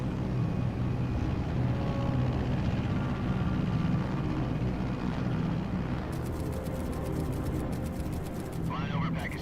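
Aircraft cabin in the Metal Gear Solid Delta video game, flying at 30,000 feet before a parachute drop: a steady, loud, broadband engine roar that continues throughout, with faint game music and clicking near the end.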